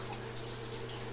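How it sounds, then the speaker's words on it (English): A hotel shower at Disney's All Star Sports Resort running with weak water pressure, giving a steady, close, even hiss of spray with a low hum beneath and no talking. "It is not the greatest shower pressure in the world."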